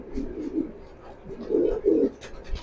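Several top-quality racing pigeons coo in low, throaty bursts, the strongest pair of calls coming close together in the middle, with softer cooing around them.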